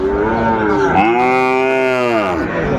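A young bull calf at a rural cattle market moos loudly and close, one long drawn-out call with a rising then falling pitch that carries across the whole moment, with no talk over it.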